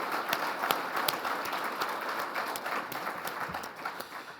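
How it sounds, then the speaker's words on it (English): An audience at an energy summit keynote in Kern County applauds, dense sustained clapping from many hands filling the room, with no voices over it. "I'd really ask everybody to give you a round of applause"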